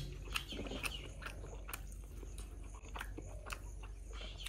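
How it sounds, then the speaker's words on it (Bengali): Hot luchi dipped in white potato curry is chewed close by at a resort breakfast, with soft repeated bites and crunching over faint background birdsong. "চলুন এবার লুচি খাওয়া যাক, গরম গরম লুচি, আর এদিকে আলুর তরকারিতে একটু ডুবিয়ে।"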